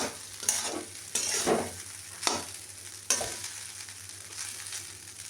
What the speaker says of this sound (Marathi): चांगली मोठा गॅस करून मिक्स करून घ्या